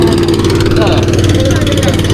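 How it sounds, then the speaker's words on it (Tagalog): A motorboat engine drones loudly and steadily close by as the boat departs, its low throbbing hum constant throughout. "may paalis na na bangka dito eh."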